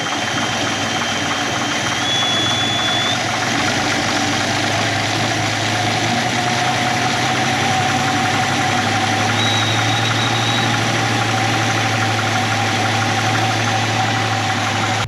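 An AMC 258 inline-six idling in an M5 Studebaker truck fitted with a cheap replacement carburetor, a loud steady low rumble with a slight drop in idle speed partway through, close and continuous, no voices.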